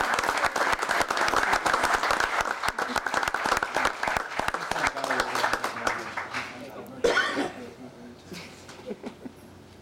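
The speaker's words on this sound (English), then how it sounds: "one last round of applause for all of our new safety workers" A crowd applauds new police officers at a ceremony in Brooklyn: loud, dense clapping for several seconds that tapers off, with voices rising as it dies down.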